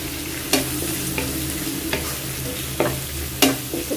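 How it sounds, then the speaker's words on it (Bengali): Sliced onion with a bay leaf fries in hot oil, a steady close sizzle broken by five or six sharp scrapes and clinks of a spoon stirring the pan; no one speaks. "পেঁয়াজটা ভাজা হোক।"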